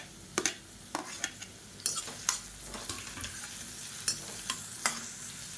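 Onion, green chilli and chopped garlic sauté in a pan, heard as a soft, steady sizzle under repeated scraping and tapping strokes of a spoon stirring, close and fairly quiet.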